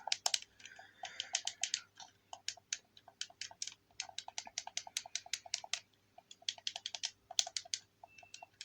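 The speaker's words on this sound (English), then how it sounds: "face buttons. Ooh, very clicky. I love controller sounds." Clicky game controller face buttons pressed in quick, uneven bursts, each a sharp close-up tap, with brief pauses between runs in a quiet room and no talking.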